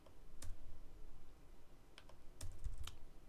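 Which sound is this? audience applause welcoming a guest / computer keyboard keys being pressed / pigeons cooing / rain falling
computer keyboard keys being pressed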